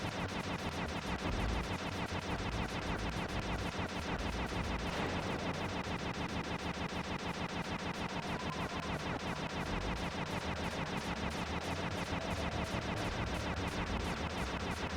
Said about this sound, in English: Bentley upgraded. He's got ricochet bullets.